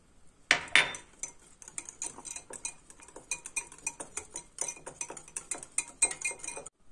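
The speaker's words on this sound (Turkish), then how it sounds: "Önce çırpıcıyla yoğurdumuzu karıştırıyoruz." A whisk clinks and taps quickly against the side of a bowl as yogurt and egg yolk are beaten together for chicken soup. The strokes come steady and close, with no voices.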